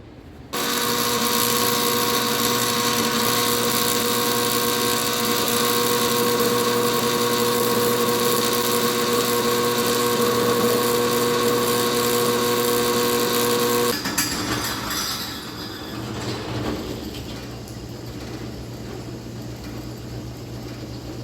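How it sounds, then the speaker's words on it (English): Metal being welded gives off a steady, loud buzzing drone with a sustained tonal hum, cutting off abruptly partway and giving way to a rougher, quieter hiss and crackle. "Let's get to welding."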